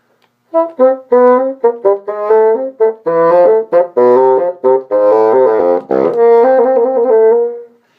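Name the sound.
bassoon playing ornamented arpeggios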